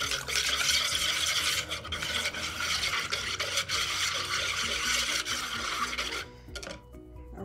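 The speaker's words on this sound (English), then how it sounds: "I got my whisk. Okay, let's mix this up." Whisk stirring golden malted waffle mix with water in a bowl, a steady scraping, rubbing churn close by with brief pauses, fading near the end.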